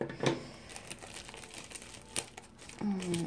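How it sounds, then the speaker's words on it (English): Tight plastic packaging around a diamond painting is cut open, giving close crinkling and crackling with a couple of sharp tearing snips and a brief squeak near the end. "I did cut into its plastic cover on top"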